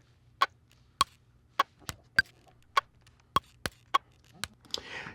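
Quantized drum groove made from sampled water bottle hits, a steady rhythmic row of sharp, woody clicks about half a second apart, close and clear, ending in a short burst of noisy rattle.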